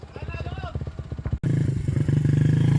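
A throbbing enduro motorcycle engine on a dirt track pulses with a raspy, loud idle-to-rev rhythm, cuts out abruptly for a moment, then returns as a steady, strong drone close by, with a voice shouting over it.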